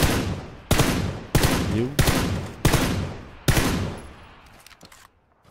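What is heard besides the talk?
warning shots fired in PUBG video game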